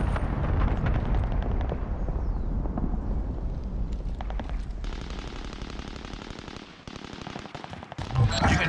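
Call of Duty: Modern Warfare gameplay with dense automatic gunfire and booming explosions, loud and close, rapid bursts of shots rattling in quick succession, then a louder impact at the end.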